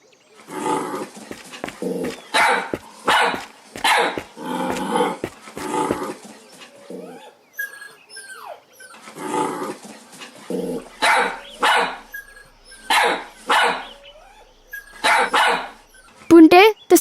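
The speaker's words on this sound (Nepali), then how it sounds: "किन यस्तो भुकेको होला कुन्नी?" A dog barks in a cartoon, loud repeated barks in bursts near the listener, with some growling and short pauses between volleys.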